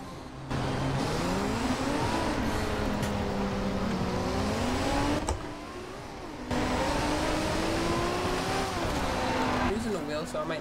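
A drift-built car with an RB26 engine drifts in Forza Horizon 2, its engine note rising and falling steadily through sustained slides with a brief lift-off midway. Someone talks over the engine throughout.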